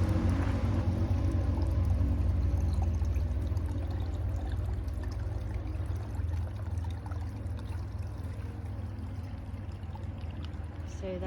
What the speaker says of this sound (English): So that little trickle I just showed you